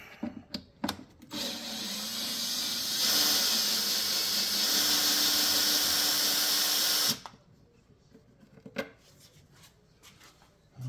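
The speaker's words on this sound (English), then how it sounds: "I'll put my drill in low gear" A power drill in low gear whirs in a steady sustained run for several seconds, removing chassis screws from a Fender Blues Junior guitar amplifier, preceded and followed by short clicks and clatter of handling.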